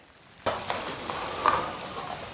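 Sichuan bean paste, ginger, scallion and garlic frying in vegetable oil in a wok for spicy beef, a sudden sizzle starting up and holding steady with small pops and stirring scrapes, close and fairly loud.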